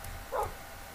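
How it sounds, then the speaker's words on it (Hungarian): A single short bark from a tamed wolf dog in the video game Minecraft, a brief, quiet yip standing alone over low background noise. "Ott egy kutya."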